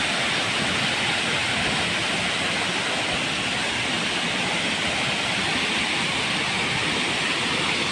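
Bada Ghagara waterfall in Keonjhar roars in a dense, unbroken broadband rush that stays loud and even throughout, with no voices over it.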